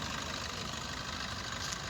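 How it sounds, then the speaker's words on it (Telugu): A 2018 Maruti Suzuki Vitara Brezza ZDi+ diesel engine idles, with a steady, even mechanical rumble and a faint knocking texture close by, heard alone without talk. "సీల్డ్ ఇంజన్, ఎటువంటి బ్యాక్ కంప్రెషన్ అయితే లేదు, గ్యాస్ రావట్లేదు. ఇంజన్ అయితే పర్ఫెక్ట్ కండిషన్లో ఉంది సార్."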